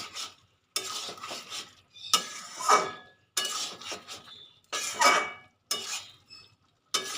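Jackfruit and prawn curry stirred in a pan, with a series of distinct spoon-against-metal scrapes and clinks in separate bursts, separated by brief quiet gaps, with only faint sizzling underneath.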